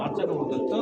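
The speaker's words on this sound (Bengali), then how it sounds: "এটা হচ্ছে আপনার মডার্ন একটা কবুতর" A modern breed pigeon gives a brief low coo close by, with talk going on underneath.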